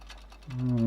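An O gauge model Turbomotive locomotive's motor whines into life halfway through, a smooth rising hum that swells quickly and stays close and steady.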